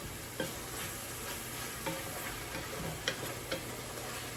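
Utensil scraping the bottom of a soup pot with braising meat, light intermittent scrapes and clicks over a steady sizzle, close and fairly quiet, with no talking.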